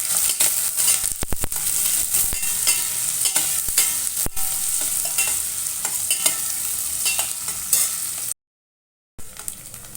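Onion frying with mustard seeds in a pan for spinach dal, a loud continuous sizzle with quick stirring clicks early on and a brief dropout near the end.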